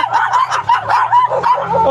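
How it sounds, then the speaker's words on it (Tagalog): Several dogs barking and yipping along a narrow road near a camping spot in Unisan, Quezon, with loud overlapping barks and whimpers in quick succession close by. "Kaya ang daming aso."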